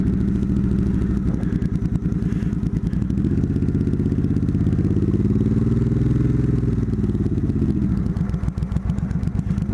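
A motorcycle with clutch trouble stalls after being left in gear, its engine chugging and clattering loudly and close throughout, with rough, uneven pulsing as it struggles.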